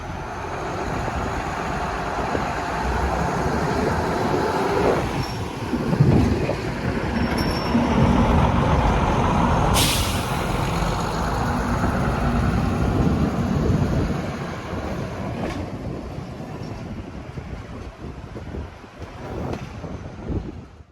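Diesel rail cars move around a station area at Entroncamento in Portugal, a low rumbling roll with wheel clatter and occasional squeals and hisses that fades near the end.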